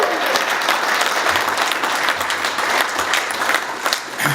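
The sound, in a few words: round of applause at awards night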